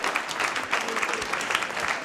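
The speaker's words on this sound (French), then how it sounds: "On peut déjà les applaudir." Audience applause at an evening information session on water and sanitation, a steady two-second stretch of dense, even clapping from a room of people.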